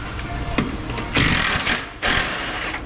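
Power tool loosening the bolts on an engine cross member during oil pump work, heard as loud whirring bursts with brief pauses between them in a shop setting.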